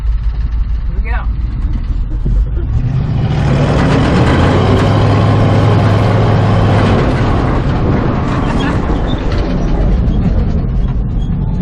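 A 1965 Chevy C10 truck's engine revs up hard while accelerating in second gear, building from a low rumble into a loud, sustained roar that holds for several seconds before easing, with excited voices talking over it.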